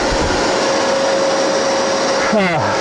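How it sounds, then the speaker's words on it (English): A loud, steady whine of a shop vacuum drones throughout, running while routing a vanity cabinet door, close and unbroken, with a brief warbling pitch shift near the end. "I got to have my vacuum on for this"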